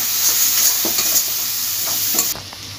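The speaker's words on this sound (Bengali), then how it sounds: "এটা দিয়ে কষিয়ে নিতে হবে।" Turmeric, Kashmiri chilli powder and other spices sizzle loudly in a hot pan while being stirred, with soft scraping strokes over a constant frying hiss that drops slightly at the end.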